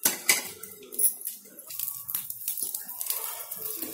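An onion tomato dosa is pressed down on a hot pan with a metal spatula, making scattered scraping clicks and light taps over a faint sizzle, close and fairly quiet.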